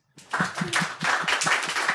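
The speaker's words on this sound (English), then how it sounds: "we're going to do our first round of applause for Caitlin Huntington" A live event audience breaks into applause after a short silence, a round of rhythmic clapping that stays steady and close until the end.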